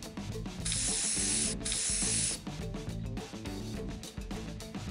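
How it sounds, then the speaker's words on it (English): Hairspray hisses out in a long continuous burst, with a short break before it resumes, over background music, then stops. "Brush the hair up and apply hairspray."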